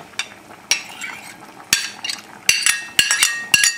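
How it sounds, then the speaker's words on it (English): Fish going into a pot of red bean and garlic soup, with a series of sharp metallic clinks and knocks of utensil against pot, several in quick succession, close and fairly loud over a faint background. "we'll add the fish, which I'm going to add right now"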